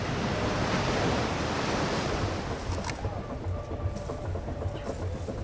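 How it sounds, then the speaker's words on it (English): A large waterfall on the Congo River, a second biggest falls, sounds as a constant loud roar of rushing water that holds steady throughout, with a little wind noise and no talking. "So this is the second biggest falls in this Congo River."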